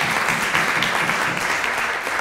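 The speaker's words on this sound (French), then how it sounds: "je vous demande d'applaudir" Audience clapping for a député at a staged trial of Toussaint Louverture, loud dense applause sustained without a break across the whole stretch.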